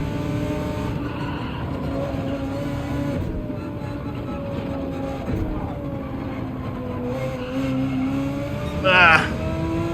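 A race car engine in Gran Turismo 7 drones steadily with shifting pitch throughout, lifting briefly with a rev near the end, while a voice talks over it.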